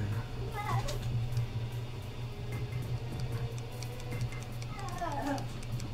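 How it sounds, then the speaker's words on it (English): Agitated meowing from a house cat, a few rising and falling cries near the start and again toward the end, over a steady low hum and background noise. "My cat's going fucking nuts right now."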